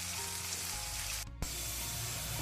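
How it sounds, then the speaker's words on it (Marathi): Onion fries in a pan over medium heat with a steady, loud sizzle throughout, briefly interrupted by a short pause and a quick clatter. "हो पियाव ब्रावन जाता म्हणसर भाजून काडया."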